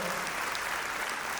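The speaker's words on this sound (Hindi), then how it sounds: "दिव्याज फाउंडेशन और अमृता फडणवीस जी के लिए एक बार जोरदार तालियां हो जाए।" Audience applause for a foundation at an International Yoga Day celebration, a dense continuous clatter of many hands clapping throughout.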